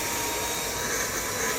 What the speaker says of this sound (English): Cat meets vacuum cleaner and gets his face sucked.